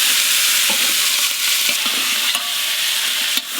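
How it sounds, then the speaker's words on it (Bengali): Chicken frying in ghee and mustard oil in a biryani pot, a loud steady sizzle close up with occasional stirring scrapes and clacks. "ঘি আর সর্ষের তেলে চিকেনটা কষবে।"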